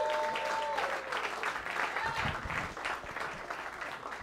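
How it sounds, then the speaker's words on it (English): Comedy club audience applause swells up as a comic is introduced, a fairly dense clatter of clapping that holds steady then eases slightly, with a brief bit of voice near the start. "Give a big round of applause for Sean Keane."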